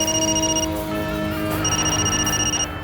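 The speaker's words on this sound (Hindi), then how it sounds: "अश्विन का फोन" A phone rings with a repeating electronic ringtone, steady sustained tones that break off briefly and then resume, fairly loud with no talking over it.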